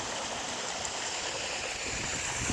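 Water from a pump-fed waterfall pours steadily into a 4000-gallon salt water pond, a constant, even rushing wash with no voices over it.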